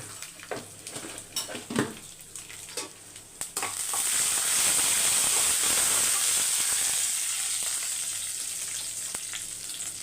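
Dry red chillies frying in hot oil, starting with a few spoon clinks and stirring scrapes, then a loud, dense hissing sizzle that holds steady and close for several seconds.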